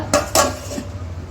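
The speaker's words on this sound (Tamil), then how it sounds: "இப்போ இந்த மாதிரி கொதிக்கும் போது தட்டு போட்டு மூடிடுங்க." Two quick clattering knocks of a plate set down as a lid over a boiling pot of mango dish, followed by a softer clink, with a low steady hum underneath.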